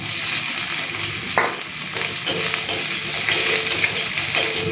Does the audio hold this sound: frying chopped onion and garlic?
yes